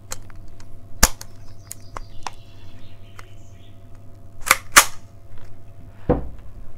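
A Czech Small Arms Vz.61 Skorpion semi-automatic pistol in .32 ACP firing single shots, several sharp cracks spaced irregularly, with a closely paired burst of two near the middle and a heavier final report, heard alone.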